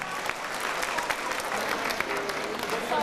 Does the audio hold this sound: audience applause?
yes